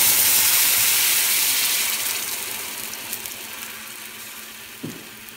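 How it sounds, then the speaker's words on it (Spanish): Tomato broth is poured into hot oil and erupts into a loud hissing sizzle that slowly fades as it settles, with a small clatter near the end. "vaciamos el caldillo"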